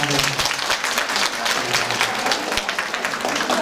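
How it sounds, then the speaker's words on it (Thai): A crowd claps enthusiastically at a Buddhist temple in Alkmaar, a dense sustained round of applause with no break. "ขอเสียงปรบมือให้สองท่านนี้มาเป็น"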